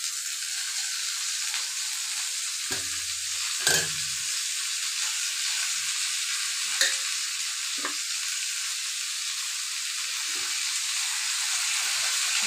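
Dheki saag fern greens fry in a pan with a steady, bright sizzle and hiss, broken by a few clattering stirs and knocks of a utensil.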